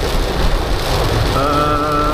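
Heavy rain drumming steadily on the roof of a Suzuki Ignis during a drive, a dense, loud, continuous wash of noise inside the cabin with a faint tonal whine appearing partway through.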